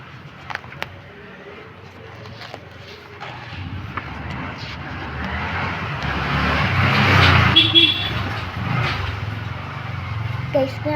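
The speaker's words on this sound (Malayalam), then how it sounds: "ഞാനിത് പുറത്തുകൊണ്ട് ചെയ്യുന്നതുകൊണ്ട് ഇവിടെ വണ്ടിയുടെ ഇതുകൂടെ കിട്ടുന്നുണ്ട്, വണ്ടിയുടെ സൗണ്ട് കൂടെ വരുന്നുണ്ട്" Road traffic outside a home in Kerala, with cars and other vehicles rumbling past, building to a louder pass midway before easing off, a steady background wash with no one speaking.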